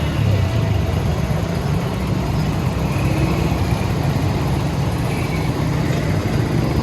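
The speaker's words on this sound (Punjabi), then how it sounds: "ਪੈਟਰੋਲ ਪਾਇਆ ਤਾਂ ਬੜੀ ਰੇਸ ਦਿੱਤੀ ਹੈ ਤਾਂ ਕਿ ਇੰਜਣ ਦੇ ਅੰਦਰ ਸਫਾਈ ਹੋ ਜਾਏ" A motorcycle engine that had taken in water, revved hard after being refuelled with petrol, roaring loud, close and continuous at a steady high pitch.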